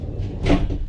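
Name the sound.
door of a Ram ProMaster 3500 van opening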